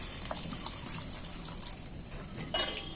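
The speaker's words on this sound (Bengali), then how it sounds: "আমি সেই অনুযায়ী জল দিচ্ছি" Water pours into an egg curry in a pan, a soft continuous trickle and splash at moderate distance with a slightly louder burst toward the end and no voices.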